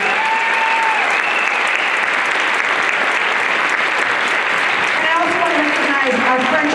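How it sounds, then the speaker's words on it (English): A middle school band concert audience applauds steadily for a saxophone duo, a thick continuous patter of many hands, while a voice cuts through the clapping at the start and again near the end. "Let's give them a round of applause."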